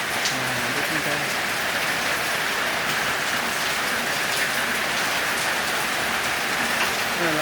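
Heavy rain pouring steadily onto surfaces before dawn, a dense unbroken hiss that stays loud throughout, with faint voices now and then underneath.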